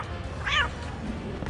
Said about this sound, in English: one of the challenges is to meow 25 times.